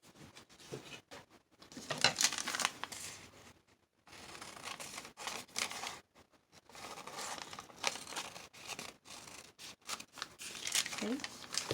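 Scissors snip through paper for a junk journal in close, quiet bursts of cutting and rustling, broken by short pauses, with a voice speaking softly in places.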